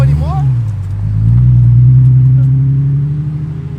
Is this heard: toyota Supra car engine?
yes